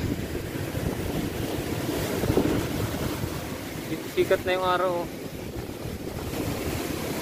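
Strong sea waves churned up by Typhoon Quinta wash and roar steadily along a fishermen's shore under gusting wind noise, while a person speaks briefly and a short tonal sound rises midway.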